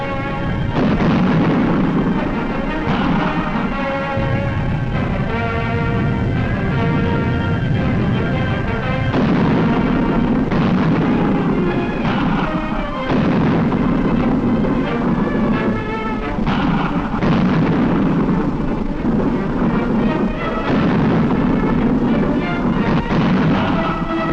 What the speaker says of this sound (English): mortars go into action to clear out enemy infantry